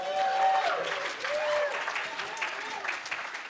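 A conference audience at a security convention breaks into loud, sustained applause, with whoops and voices rising through the clapping.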